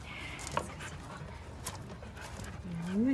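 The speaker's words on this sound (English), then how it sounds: "There's a dog." A dog pants softly and steadily, close by and quiet, against a background murmur with a faint whimper near the end.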